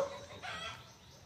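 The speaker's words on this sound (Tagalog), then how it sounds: "ang dami niya dito mga manok" Faint chickens clucking nearby on a farm in a quiet outdoor setting, a brief burst of fowl calls.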